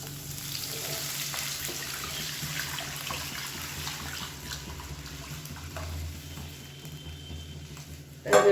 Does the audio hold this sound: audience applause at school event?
no